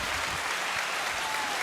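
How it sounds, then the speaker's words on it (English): A round of applause fills the room during a podcast episode, steady dense clapping with some cheering, loud and continuous for a short burst. "Let me give him a round of applause"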